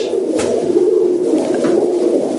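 Pigeons coo steadily, a low soft warbling close by with a continuous murmur of several birds, likely L.F. Tumblers kept alongside feeders and Dutch high flyers in a loft.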